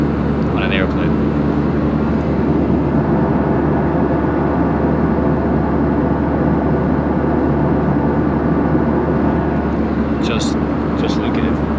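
Inside an airplane cabin in flight over Pakistan, a loud, steady, broadband engine and air roar holds without change for the whole stretch, with no clear sounds standing out above it.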